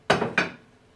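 A knife cuts crunchy mashed potatoes into portions, giving two quick crisp crunching chops close by in about a second, then quiet.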